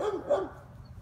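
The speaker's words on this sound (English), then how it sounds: "Still a puppy." A male American Staffordshire bully puppy gives a couple of short, close barks in the first half-second, then stays quiet over a low background rumble.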